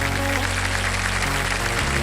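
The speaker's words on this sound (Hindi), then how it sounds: "तो चलिए जोरदार तालियों के साथ स्वागत कीजिए" Loud studio audience applause rings out on a Bollywood celebrity TV game show, a thick continuous wash of clapping over a low steady musical drone.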